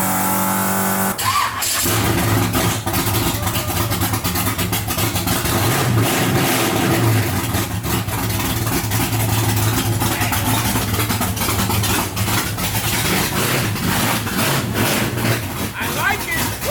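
A car engine runs steadily throughout, a low continuous rumble with slight revving, while people talk over it.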